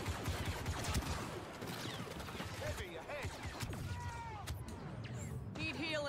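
Rapid bursts of gunfire crackle through a chaotic Star Wars Battlefront 2 (2017) multiplayer battle, layered with impacts, whooshes and other game effects while voices speak over the mix.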